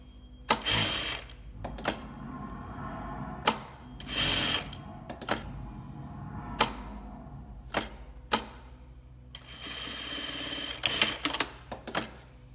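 A Juki DDL900A industrial lockstitch sewing machine sews a box stitch pattern, its motor whirring in loud, fast bursts separated by brief pauses and sharp mechanical clunks.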